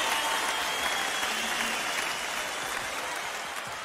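A live stand-up comedy audience claps and applauds loudly and steadily, a dense wash of hand claps that tapers slightly toward the end.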